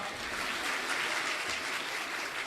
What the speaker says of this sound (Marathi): तिघांसाठी टाळ्या आता तीन वेळा वाजवा